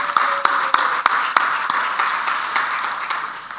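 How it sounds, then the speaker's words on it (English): A small meeting crowd gives volunteers a round of applause. The clapping is sparse at first, with a few sharp claps standing out, and settles into a light, even patter. "let's give them a round of applause"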